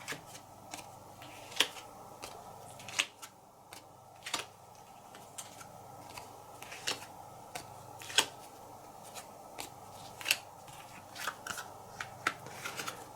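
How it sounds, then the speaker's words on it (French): Soft papery snaps and flicks recur at a steady pace as cards are drawn and laid down one after another on a tabletop during a solo game of the board game Hadrian's Wall, quiet and close with no talking. "je pioche 6 cartes"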